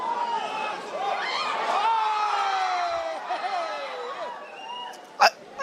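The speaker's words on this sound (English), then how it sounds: "I just love how the audience in the stadium, they're just cheering for absolutely everything." A stadium crowd at a football match during the Dr. T Ao Trophy at IG Stadium, Kohima, giving a broad, sustained cheer and murmur with some whistle-like tones and a sharp knock near the end.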